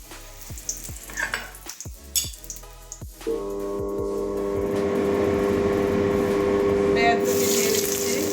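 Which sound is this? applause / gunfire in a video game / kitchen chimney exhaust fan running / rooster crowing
kitchen chimney exhaust fan running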